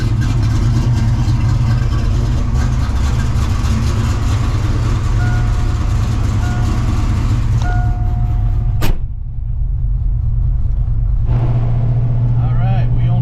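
A Foxbody Mustang with a drag pack cruising down the road, its steady low engine drone heard from inside the car, with a brief sharp click near the end and a short quieter stretch afterward.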